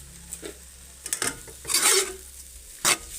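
Corned beef with eggs is stirred in a pan, giving a few scraping utensil strokes and clinks against the metal over a faint sizzle, close and moderately quiet.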